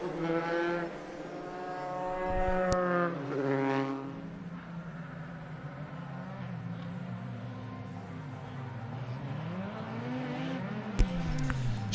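Formula 3 race cars near the Blanchimont corner at Spa-Francorchamps, engines whining and rising and falling in pitch as they pass, moderately close, with occasional tire noise.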